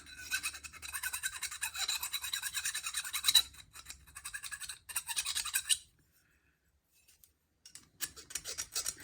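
Rhythmic rasping strokes of a file working over a model kit part, steady and close for several seconds, then a pause and a brief return of scraping; no talking.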